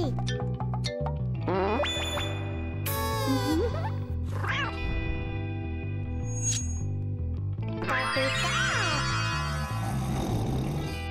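A cartoon cat meows a few times in a Pokémon-themed animated scene, with rising, wavering cries heard over continuous background music.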